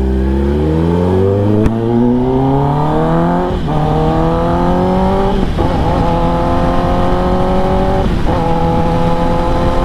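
A Kawasaki ZX10R motorcycle accelerating hard on a road in road mode, engine pitch climbing through several gear changes with brief dips between shifts, loud and close throughout.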